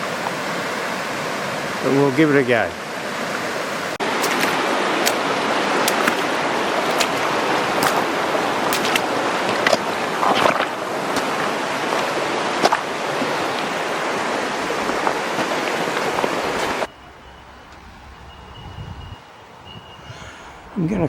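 Nerang River water flowing, a loud, steady broadband rush close by with occasional clacks and a voice speaking briefly, before the rush suddenly drops away near the end.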